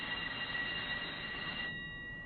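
A train moving in an animated Hunter x Hunter episode, heard as a steady rolling rumble with a faint high squeal that changes near the end, continuous and moderately quiet with no talking.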